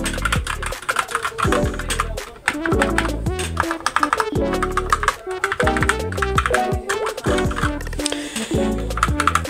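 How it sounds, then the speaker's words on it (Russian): Rapid, uneven clacking of keys on a Defender Hawk mechanical keyboard with Outemu Red switches, close and crisp, with bursts of strokes and brief pauses, while tonal background sounds run underneath. "вот он, саунд-тест данной клавиатуры"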